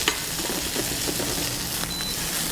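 Six shrimp sizzle in a hot pan while it is shaken and tossed, a steady bright hiss with soft scraping bursts as the pan moves.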